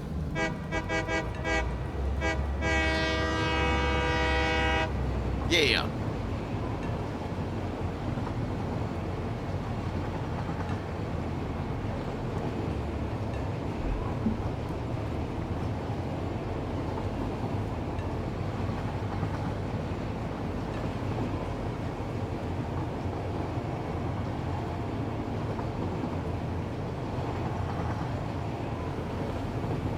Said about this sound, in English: Let's take a train ride.